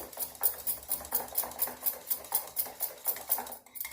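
A spoon beats maida batter for malpua in a bowl, a rapid, steady rhythm of wet clicking strokes against the sides, close up and alone.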